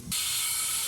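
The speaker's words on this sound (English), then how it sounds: "turn this regulator on and connect my hose here" Compressed air rushes through a regulator and hose to inflate vehicle air bags, a steady loud hiss that cuts in abruptly and holds constant without a break.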